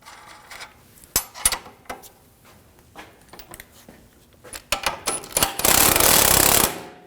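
Sharp metallic taps ring out while a part is knocked into place on the rear CV axle of a 2007-2013 BMW 328i 3.0L L6, irregular close clinks ending in a louder burst of clattering noise.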